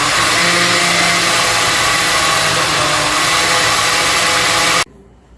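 A blender runs loud and steady, whirring through cooked ingredients for Haitian soup joumou, then cuts off abruptly near the end.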